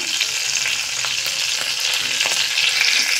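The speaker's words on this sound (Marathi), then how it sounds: "आता आपण त्यात शिमला मिरची, भरलेली शिमला मिरची टाकूया, कढईत सोडूया।" Stuffed capsicums are dropped into a kadhai of hot oil with crackled mustard seeds and cumin, producing a loud, busy frying sizzle with stirring noises up close.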